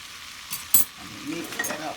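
Roux being whisked in a pan for broccoli and cheddar soup, with soft scraping strokes and a few light clinks over a low background.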